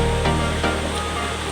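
River water rushing steadily in a constant broadband wash, close and moderately loud, with no voices.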